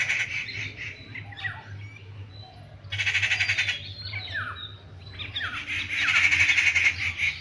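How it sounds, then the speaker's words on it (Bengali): Morning birds call from trees around a rooftop, loud squawking bursts and chirps coming in waves over a low steady background hum, with no one talking. "সকালবেলা গাছে গাছে, সব গাছে গাছে পাখি এসে ডাকছে।"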